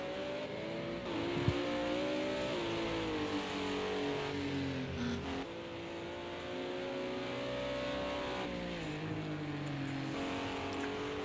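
GT4 race cars circling a track, their engines droning loudly and steadily with rising and falling revs as they shift and accelerate through an unbroken stretch with no voices.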